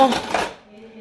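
A metal spoon clinks against a pot while scooping cooked rice, giving a short bright scrape and clatter that quickly fades to near silence.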